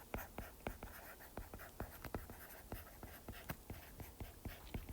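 Rapid, rhythmic tapping and scratching of a teacher writing a word by hand on a board during an English class, faint, close, with no talking.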